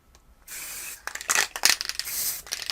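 Water-based paint sprayed through a stencil onto handmade paper: a few short, close hissing bursts with faint scraping and tapping between them, no speech.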